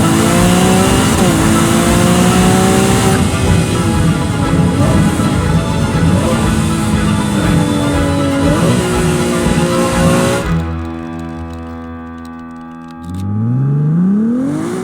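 A 2023 Ferrari 296 GTB with a V6 hybrid engine revving hard and loud up close, pitch sweeping up and down through several surges before easing off, then a fresh rev builds at the end.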